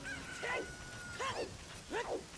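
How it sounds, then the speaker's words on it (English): Cuckoo chickens attacking in the Zelda Ocarina of Time video game, three repeated rising-and-falling squawking cries at even intervals, fairly faint over a low game background. "The attack of the chickens."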